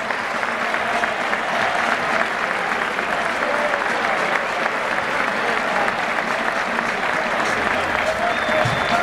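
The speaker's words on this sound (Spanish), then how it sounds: "Renovamos el aplauso para el hoy capitán de la divisa rojiblanca, Pablo Rosales" A large stadium crowd at a football match applauds steadily, a dense wash of clapping that holds at an even level throughout, with a faint whistle near the end.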